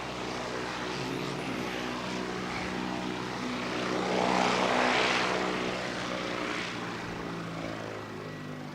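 An Air New Zealand ATR 72-600 turboprop departs for Nelson on a windy day in Canterbury, its propeller drone holding steady, then swelling to a louder peak midway before easing back as it moves off.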